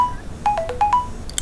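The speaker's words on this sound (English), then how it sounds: "excuse me, that was my cell phone" A cell phone rings with a short electronic melody of several bright tones in quick succession, fairly close and clear, over a quiet background with no talk.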